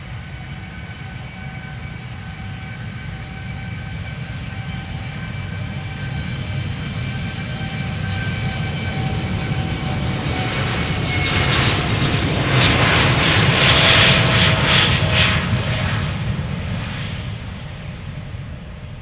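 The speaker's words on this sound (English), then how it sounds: "Air Europa to Madrid. Lining up already and going already." An Air Europa jet airliner bound for Madrid takes off at Amsterdam Schiphol, its engine roar building steadily from a distant rumble to a loud, broad, rushing peak before easing slightly as it climbs away.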